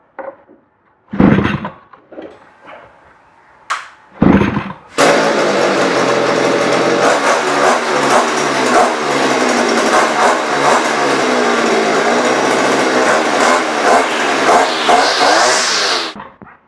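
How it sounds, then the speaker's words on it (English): Baumr-AG 65cc two-stroke long-reach pole tool: a few short pull-start bursts, then the engine catches and runs loud and close for about eleven seconds, rasping and revving unevenly before cutting off. "It's got a real beefy sounding motor."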